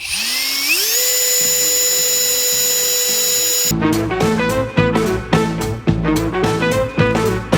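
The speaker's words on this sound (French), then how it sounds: "donc là, on commence, je fais 3 trous en fait. Je pré-perce." A power drill whines up to speed, then bites repeatedly into a window frame, pre-drilling screw holes in a rhythmic series of short, loud bursts during renovation work.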